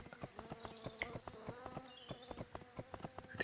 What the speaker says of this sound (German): Hatte diese Biene, die da rumsummt?